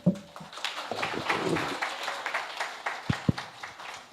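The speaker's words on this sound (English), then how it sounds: "can we give a hand clap?" An audience claps during a speech, uneven hand claps spread through the room at moderate distance, rising and falling over a few seconds with a couple of sharper single claps near the end.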